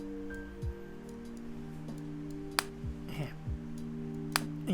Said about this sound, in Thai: นี่เสียงดังแปะด้วยเป็นไง